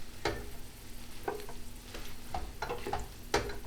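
Tender arugula is stirred in a pan with garlic and oil: a soft sizzle broken by several scraping turns of a utensil, fairly quiet and close.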